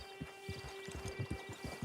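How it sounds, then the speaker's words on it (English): Horse hooves clip-clop at a steady walking pace in Red Dead Online, soft repeated thuds over a low ambient hum and faint tones. "Get on the horse when you're ready."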